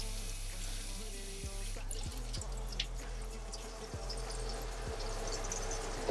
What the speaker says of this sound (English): Give them a little rinse.